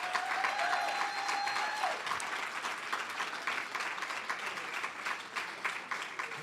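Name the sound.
audience applause for awardees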